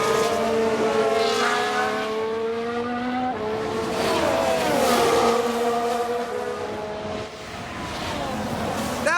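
A Ferrari Formula 1 car in an F1 Manager 22 race replay screams past, its high engine whine rising and falling through gear changes with a loud pass-by sweep, then revving again.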